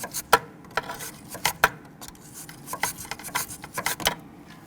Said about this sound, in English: try and cleaning that with a little bore brush